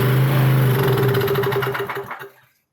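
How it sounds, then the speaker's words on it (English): Briggs and Stratton 2kW generator engine running loud and close with a steady hum, then sputtering and winding down to silence within a few seconds. "Right, that's good. Engine runs."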